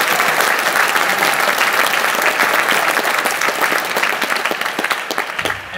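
Audience applause fills a hall at a FIRST robotics kickoff event at the University of Minnesota, steady dense clapping held at full strength throughout before tapering slightly at the very end.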